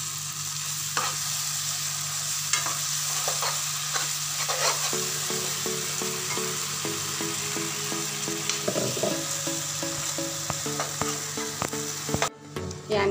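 Ginger, garlic and mint paste hits frying tomatoes in a pan, sizzling steadily with repeated stirring scrapes and clinks throughout, close and alone.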